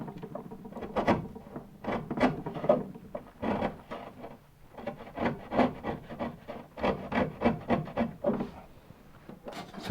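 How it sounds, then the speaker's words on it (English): A long chisel pares a wooden deck beam joint for a 2.4mR sailboat, making repeated short rasping wood shavings strokes in uneven bursts, close and moderately loud, with no talking. "I'm going to quickly switch to a longer chisel"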